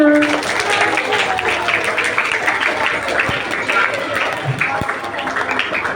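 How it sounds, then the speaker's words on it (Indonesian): Steady clapping fills a classroom after a children's relay race story, dense and continuous for several seconds with voices mixed in underneath. "Tepuk tangan untuk kita semua"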